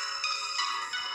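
A telephone rings in the Roblox pizza tycoon video game with a continuous bright electronic warble, faint and steady throughout, with no voices over it.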